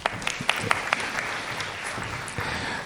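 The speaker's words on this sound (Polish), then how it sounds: "To brawa dla pani Magdy też." At a village community gathering a crowd claps, with a few sharp close claps standing out early over a steady spread of applause from the room.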